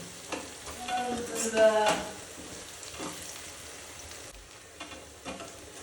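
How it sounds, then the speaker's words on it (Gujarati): Garlic sautéing in a pan alongside onion for baingan bharta: a steady close sizzle with stirring scrapes and a louder burst of frying early on, fading to a softer crackle. "આપણે આમાં આ લસણને પણ હવે સાંતળી લેશું"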